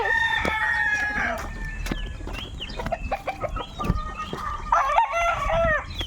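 A backyard flock of chickens with young chicks clucks and peeps busily while a rooster crows, the calls overlapping close by and fairly loud throughout.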